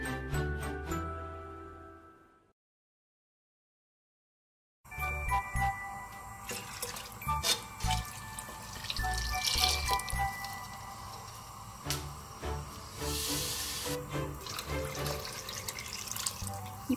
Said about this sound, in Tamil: சூப் கன்சிஸ்டன்சி வர அளவுக்கு நான் நிறைய தண்ணி அதில் ஊற்றிடுவோம்.